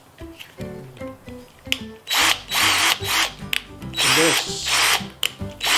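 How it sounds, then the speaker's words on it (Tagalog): A Parkside PABS 20-Li cordless drill in hard plastic with rubber grips whirs in several short bursts, loud and close, with a few spoken words before the motor starts. "It's a drill, cordless drill."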